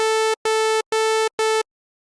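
A bright, buzzy synthesizer tone from the initialized preset of the u-he Zebra2 software synth, rich in harmonics, played as four short sustained notes of equal pitch with brief gaps between them.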